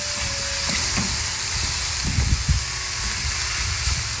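Chanterelle mushrooms fry in a hot pan with toasted rice for risotto, a steady close sizzle with a few soft stirring scrapes and bumps, no voices.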